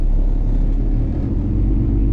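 A pickup truck rolls forward into a parking space, its engine giving a steady low rumble close by with no voices over it.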